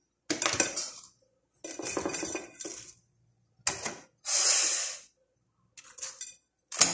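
Dishes clatter close by as a plate is taken out and food is placed on it, in several separate bursts of clinking and scraping divided by short silences.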